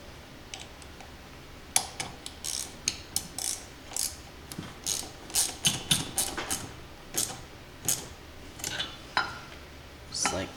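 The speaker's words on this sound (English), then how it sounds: "take a 1/4-inch extension, 1/2-inch socket, and put the 3/4-inch bolt in and thread it into the secondary" A socket wrench with a 1/4-inch extension and 1/2-inch socket threads a 3/4-inch bolt into the secondary clutch of a vintage John Deere snowmobile, giving quick, uneven runs of close ratcheting clicks.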